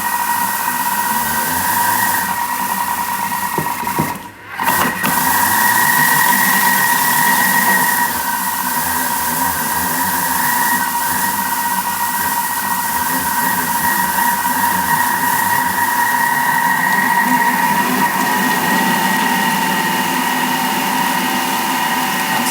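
A Thermomix fitted with its butterfly whisk mixes cookie dough at speed 4, giving a steady, close motor whir that runs continuously with one brief dip near the start.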